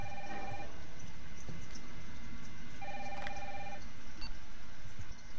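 A telephone rings in the Resident Evil 3 Remake video game, with two repeated bursts of electronic ringing over a steady ambient hum, no talk.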